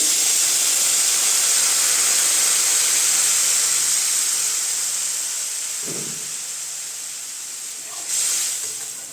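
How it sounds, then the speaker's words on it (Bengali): Pre-heated water poured into a hot pan for a Bengali vegetable and small boroli fish curry sends up a loud, steady steam hiss that slowly fades, with a brief clatter near the end. "এখন দিয়ে দিব আমি জল। জলটা আমি আগেই গরম করে রেখেছি।"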